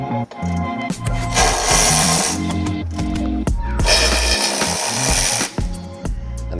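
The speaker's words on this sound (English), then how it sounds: "We're going to start at the top using a 15mm socket. We're going to remove these 4 nuts." A 15mm socket wrench works loose the four top nuts on the front brace of a BMW G82 M4 with an S58 engine, giving a steady, loud run of ratcheting and mechanical clatter with no talking.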